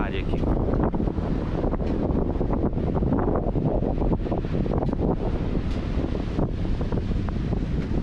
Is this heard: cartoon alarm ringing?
no